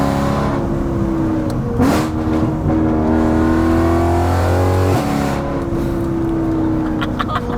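BMW E92 M3 with a GTS-style gearbox tune accelerating hard along an open road, engine note climbing steadily then dropping sharply at a quick gear change before rising again, loud and continuous from inside the car.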